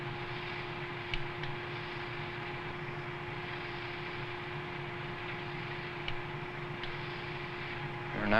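An XV-15 tiltrotor aircraft accelerates in airplane mode, heard from inside as a steady, even engine and rotor drone with a sustained tone and a few faint clicks, and no one talks.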